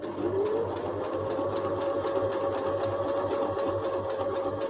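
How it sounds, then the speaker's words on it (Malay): Sewing machine stitching steadily with a fast, even whir and rapid needle clatter, close and continuous, no talk. "bila kita dah jalan sikit, kita jarum mesin terbenam ke bawah, tapak naik atas"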